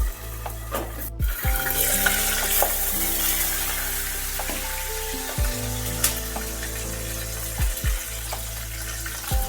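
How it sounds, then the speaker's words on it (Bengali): Small puti fish frying in a covered pan give a steady, close sizzle throughout, with a few louder clatters and a musical background underneath. "পুঁটি মাছ কিন্তু খুব বেশি ভাজা হবে না, মাঝারি মাপেরই ভাজতে হবে"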